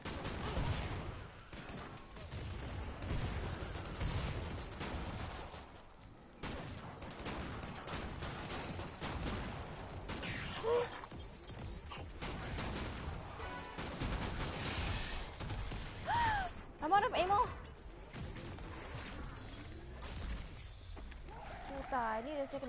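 Rapid gunfire from the Killing Floor 2 video game, dense volleys and bursts crowding the mix with scattered creature noises, while a player talks over the shooting.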